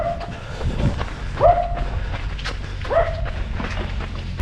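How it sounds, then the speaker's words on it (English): Dogs barking nearby in a residential area, two or three sharp single barks spaced a second or so apart over outdoor background noise. "A lot of dogs around here."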